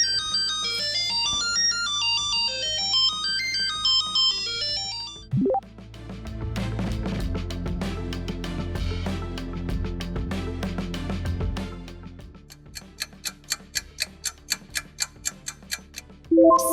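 Siemens mobile phone ringtone, a clear electronic tune with rising and falling arpeggiated notes, followed by a denser synth section and a steady run of quick repeated ticking tones near the end, loud and alone.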